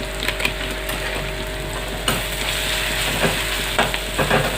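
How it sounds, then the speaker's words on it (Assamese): Spices with cumin and coriander powder sizzle steadily in a pan as they are stirred for a prawn masala curry, with occasional scraping clicks from the stirring utensil over the continuous frying hiss. "ভালকৈ মই ভাজি ল'লোঁ"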